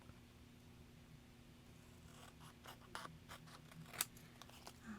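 Scissors snip through paper while cutting out a paper pocket for a decorated nature journal page, a quiet string of short crisp cuts over low background hum, growing denser toward the end.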